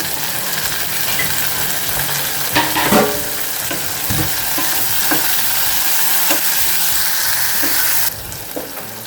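Chopped tomato frying with onions in a pan for kempu chitranna, a loud continuous sizzle up close with spoon scrapes and clinks scattered through, the hiss dropping off sharply near the end.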